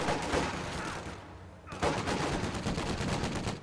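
Grenadiers trade gunfire with riflemen holed up in a building in a strategy video game. Dense, loud bursts of rapid shots crackle almost continuously, broken by a brief lull in the middle.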